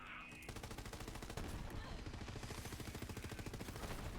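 Video game gunfire with small explosions on each shot: rapid automatic bursts, dense and rhythmic, heard fairly quietly and running almost without a break after a short lead-in.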